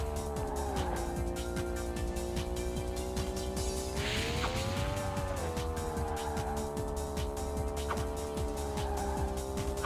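A 1956 Ford F100 pickup roars through a video-game race, its engine droning steadily and rising and falling in pitch while tires squeal and skid repeatedly, loud and continuous throughout.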